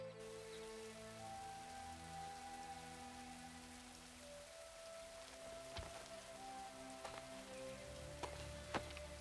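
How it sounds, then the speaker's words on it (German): Rain falls steadily in the video game Assassin's Creed III, a faint, even patter of drops on surfaces under low game music, with a few slightly sharper ticks near the end. "Und es regnet"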